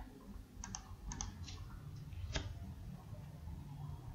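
Several sharp mouse clicks at a computer while working in SolidWorks CAD software, close and fairly quiet, spaced irregularly over a low room hum with no talking.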